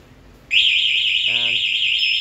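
A Yamaha Mio Gravis motorcycle's security alarm bursts on after a half-second of quiet, a loud, steady warbling electronic siren with a brief lower pulsing tone partway through.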